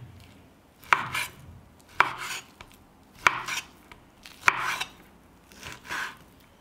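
A knife cuts through beef neck on a board, five or six distinct sharp chops spaced about a second apart, close and alone without speech.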